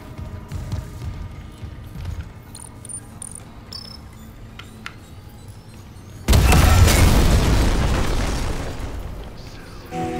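A detonation in the video game Dead Space Remake: a sudden loud boom bursts out after a stretch of low ambient hum and faint clicks, then rumbles and slowly fades.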